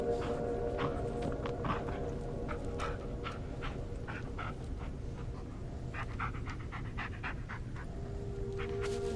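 Steady, rapid panting from a dog in the Blair Witch video game, close and moderately loud over a low humming backdrop, with scattered soft footstep-like taps throughout.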